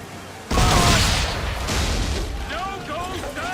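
Cannon volley from a sailing ship in Assassin's Creed 3: a sudden massive boom that rolls into a long, dense rumble of overlapping shots. Shouting voices and whistling tones sound over the fading roar.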